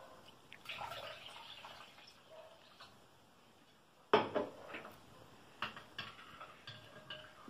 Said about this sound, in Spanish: Le vamos a poner 300 mililitros de agua.